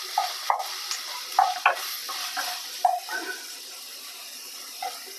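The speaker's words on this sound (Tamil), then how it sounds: "வெங்காயத்தோடு போட்டு நல்லா வதக்கி வச்சுக்கலாம்." Cubed tomatoes and onions sautéing in a pan for chicken liver varuval. Faint, intermittent scrapes and clinks of stirring come in short bursts over a quiet background, with no voices.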